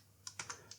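A few distinct keystrokes on a computer keyboard while editing a web page's HTML, four sharp clicks spaced unevenly over a faint steady hum, close and fairly quiet, with no talking.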